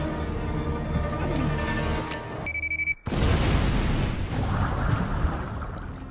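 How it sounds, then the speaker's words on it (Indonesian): A car seat bomb detonates in a film scene: a sudden loud blast after a brief drop in sound, followed by a sustained broadband roar and rumble of the explosion, with tonal film sound before it. "Matt pun berhasil keluar dari mobilnya yang membuat bom pada kursi joknya seketika meledak."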